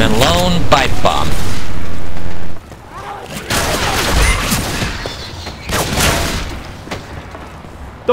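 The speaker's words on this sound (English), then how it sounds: "And a lone pipe bomb." A pipe bomb explodes in the Left 4 Dead 2 video game amid chaotic gunfire, with several loud booming bursts and crackling blasts while players talk over the action.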